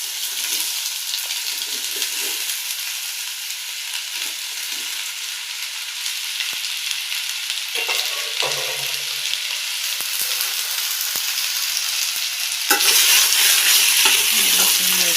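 Washed potatoes fry in hot oil in a kadai, making a loud, constant bubbling sizzle with occasional scraping stirs, and the hiss grows louder near the end.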